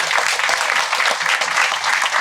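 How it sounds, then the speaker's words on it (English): Resounding round of applause from the audience at a community meeting in a primary school hall, steady dense clapping filling the whole stretch with no talk over it. "And I think you deserve a resounding round of applause."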